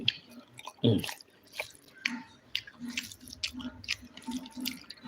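Someone eats chicken Malabar curry with chapati up close, with soft wet chewing and squishy bites and one louder bite near the start, quiet and with no talking.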